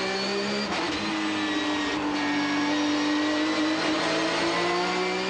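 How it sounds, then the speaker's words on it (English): Porsche GT3 Cup race cars on the Streets of Toronto street circuit hold a loud, steady high-pitched engine drone while braking into turn 8, with no voices over it. "Robichon weaving and wobbling into the brake zone of turn 8."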